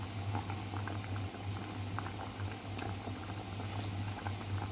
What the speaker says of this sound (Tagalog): Kumukulo na.